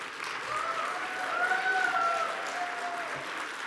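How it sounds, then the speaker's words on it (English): An audience applauds at the 2023 GMBA Awards ceremony, with sustained moderate clapping across the room and faint whistles or cheers rising and falling above it. "Can we give her a round of applause?"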